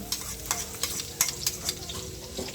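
Garlic sizzles in hot oil in a pan while being stirred, a close, steady frying crackle broken by several sharp scraping stirs.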